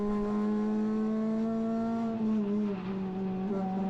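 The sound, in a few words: Renault Clio RS 200 engine at full throttle on track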